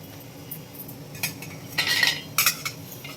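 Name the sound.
chopped onion pieces put into a mixer jar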